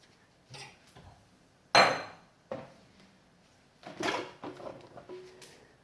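Cooked quinoa is moved into a rice cooker pot: a series of scattered metallic clanks, scrapes and knocks of utensils and pot, one loud bang followed by softer rattles, with no voices.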